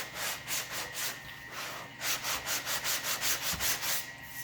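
Hand sanding block rubbing over body filler on the C-pillar of a 1969 Sport Satellite, rhythmic back-and-forth scraping strokes up close, with a brief pause midway before the strokes resume.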